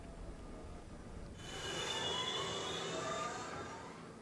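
Subway train from a train simulator game braking in snow, its wheels rising into a sustained high metallic squeal over steady rail rumble, fairly close and moderately loud with no talk.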